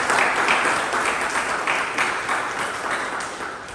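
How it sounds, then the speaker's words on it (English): Dense, steady round of applause from an audience at a Toastmasters club meeting, continuous clapping throughout with no talk over it. "A huge round of applause for all 3 Toastmasters"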